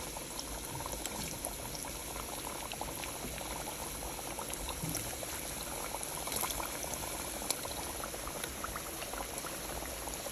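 Thick cut french fries fry in hot oil with a dense, steady bubbling sizzle, close and continuous, with a faint clink or two and no talking.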